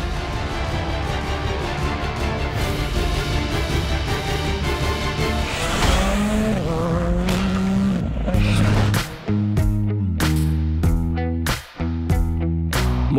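A Czech rallycross car driven wildly on twisty asphalt paths inside a park, its engine revving and rising in pitch over a loud, rhythmic music bed, with tyre noise in the busy mix.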